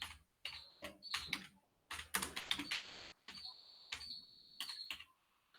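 Bursts of typing on a computer keyboard while entering a search for digital marketing courses, quick clattering key clicks in several short runs separated by brief pauses.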